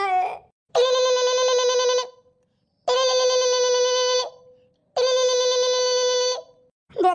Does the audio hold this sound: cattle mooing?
no